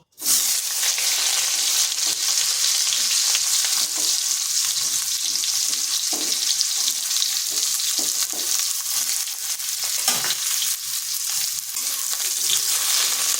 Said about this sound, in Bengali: তেলটা ভালোভাবে গরম হয়ে গেছে, দিয়ে দিচ্ছি কেটে রাখা পটলগুলো।